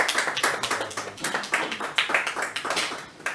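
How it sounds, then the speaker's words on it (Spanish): An audience at a book presentation in a Madrid bookshop applauds with steady, close clapping from a modest crowd. "Pido un aplauso en primer lugar para él."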